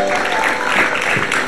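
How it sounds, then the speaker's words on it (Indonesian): Studio audience applause on a television show, a brief, loud burst of clapping that holds steady throughout. "tepuk tangan buat Anita Hara"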